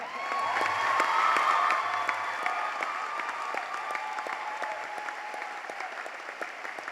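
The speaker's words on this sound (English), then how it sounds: "And you can now applaud." At a college of optometry convocation, the audience applauds the standing graduates: sustained dense clapping across a large hall with some cheering and whoops, steady and moderately distant.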